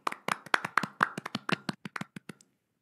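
Brisk hand claps at an online education webinar's certificate presentation, about a dozen and a half sharp, fairly close claps from a small group over two seconds, then silence.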